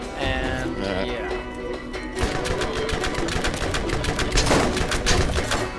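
Sniper rifle fire in the Borderlands video game, heard as a dense run of sharp repeated cracks over busy game sound and music, with the rhythm tightening after a couple of seconds.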